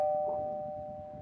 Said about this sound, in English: Oh, guys, hold on. That's the doorbell.